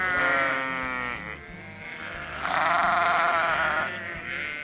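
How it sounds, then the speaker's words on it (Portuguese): Sheep bleat in two long, wavering calls, loud and close, with a short pause between them. "As ovelhas são majoritariamente criadas em rebanho e em todos os continentes."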